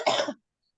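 A single short, close cough, one rough burst lasting about a third of a second and then quiet, with nobody talking.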